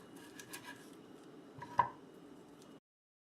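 A shallot is peeled by hand in a home kitchen: soft, faint papery rustling and handling noises, with one brief, crisp snap partway through.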